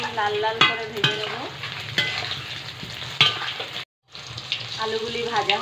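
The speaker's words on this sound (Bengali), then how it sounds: "আলুগুলি লাল লাল করে ভেজে নেব।" Potatoes browning in hot oil for biryani: a close sizzle broken by several sharp scrapes and knocks of a spoon against the pan, with a short silent gap before the frying resumes.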